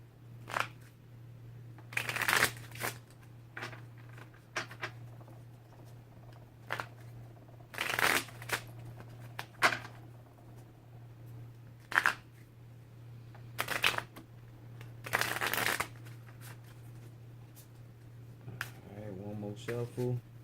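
Repeated bursts of cards being shuffled, riffling in quick crackling runs every few seconds over a steady low hum, with faint movement between.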